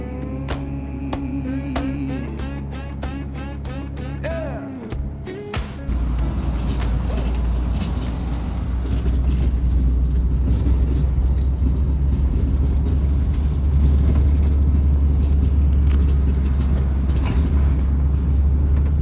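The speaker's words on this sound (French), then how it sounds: "vous pouvez entendre tous les bruits de suspension que fait la voiture" A BMW 320i E36 drives along with a steady low rumble, while intermittent knocks and rattles from the suspension pop through the road noise.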